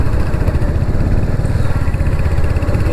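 A Royal Enfield Hunter 350 motorcycle with a changed exhaust revs its engine, a loud, close, continuous throbbing thump that holds steady throughout, with no talk.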